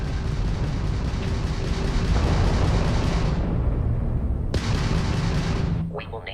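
Crimson Fleet ship weapons fire in Starfield space combat, sustained loud booming barrage that drops away, then a fresh heavy blast near the end followed by a quick crackle.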